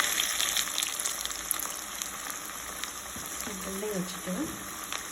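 Potato bread rolls dropped into oil and frying, a steady bubbling sizzle that runs throughout, with a voice speaking briefly over it near the end.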